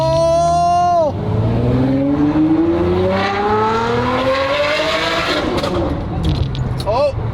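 A car engine revs loud and close from inside the cabin, climbing steadily through the gears. There is a drop near the start, then another shift partway through, which the driver misses and lands in fourth. Voices are faint beneath the engine.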